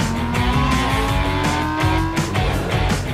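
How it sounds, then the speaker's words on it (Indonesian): A car engine drones steadily with rising exhaust tones and a rough, loud rumble, like a vehicle accelerating while driving, with no voices. "suara knalpot mobil yang sedang berjalan"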